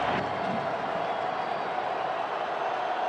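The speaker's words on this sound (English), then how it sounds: "Listen to this crowd." A football stadium crowd at the 2019 Big 12 Championship between Oklahoma and Baylor roars in a dense, steady, unbroken wash of noise, with no talk over it.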